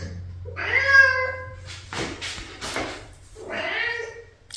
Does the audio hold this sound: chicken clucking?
no